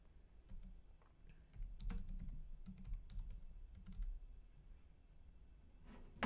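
Typing on a computer keyboard, a quiet run of irregular clicking keystrokes in small bursts, close and faint, with no talking.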